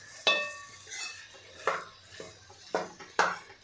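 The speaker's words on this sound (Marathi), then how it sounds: "तर बटाटा आपण सगळा यामध्ये घालून घेतलेला आहे। आता आपल्याला 2 ते 3 मिनिटे परतून घ्यायचं आहे।" Potatoes being sautéed and stirred in a pan, with a spoon scraping and clattering against the metal in four or five sharp, separate strokes at close range and no voices.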